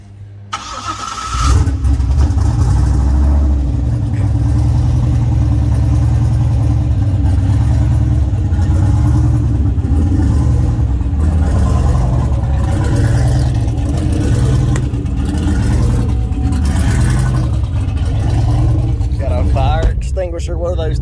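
A turbocharged Chevy Blazer SS engine on about 10 pounds of boost cranks and catches, then settles into a loud, steady, close-up rumbling idle with slight fluctuations; voices talk faintly over it.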